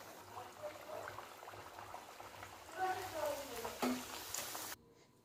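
Green pea masala puris deep-frying in hot oil, a steady bubbling sizzle with a few louder crackling bursts near the end before it cuts off abruptly.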